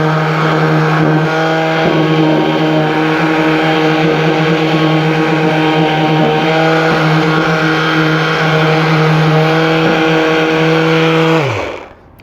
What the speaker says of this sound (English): I've got the sander here. We're going to go ahead and sand a little bit on this.